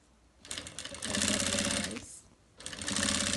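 A sewing machine stitches through the transparent plastic of a small zippered bag in two loud, close runs of rapid mechanical whirring, separated by a brief pause.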